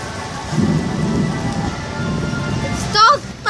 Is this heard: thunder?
yes